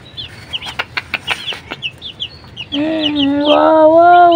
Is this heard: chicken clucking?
yes